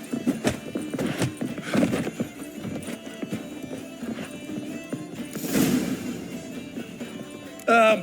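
Horse hooves clip-clop in an uneven rhythm close by in The Witcher 3: Wild Hunt, with a brief whinny near the end and voices in the background.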